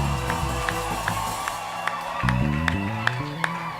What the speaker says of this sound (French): Est-ce que tu peux pousser des cris de joie?